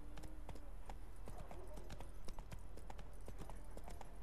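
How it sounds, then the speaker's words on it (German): A horse gallops in The Witcher 3 video game, with quick rhythmic hoof clip-clops over a steady background bed of game ambience, moderately close and continuous. "Und dann reiten wir mal in stramm Galopp zu unserem nächsten Ziel."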